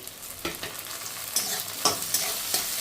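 Onions and chopped tomatoes sizzling in a pan while a spoon scrapes and stirs them, a soft steady fry broken by several sharp clinks and scrapes, fairly quiet and close with no talking.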